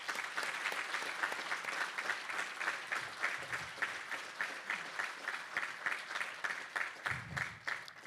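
Sustained applause from an audience at an award ceremony honouring a civilian service award recipient, a steady wash of many hands clapping with rhythmic pulses, fairly faint and distant, no talk over it.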